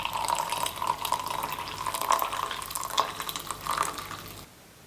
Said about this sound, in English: I'm going to turn the water off and I'm now going to stir at 20 seconds slowly